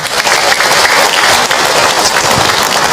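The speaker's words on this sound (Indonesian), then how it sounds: "Tepuk tangan buat kita semua" A large audience at a religious talk claps loudly and continuously, a dense, even roar of hands with no talking over it.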